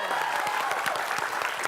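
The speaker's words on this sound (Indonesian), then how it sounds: "Hebat, tepuk tangan dong." A studio audience breaks into dense, even applause, many hands clapping together in a steady wash of sound close up, with no talking over it.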